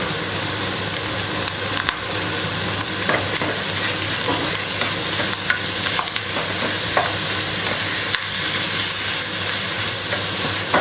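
Pad krapao with fermented pork sausage stir-fried in a hot pan: a steady, loud sizzle runs throughout, with scattered scraping clicks of the spatula stirring. No one speaks.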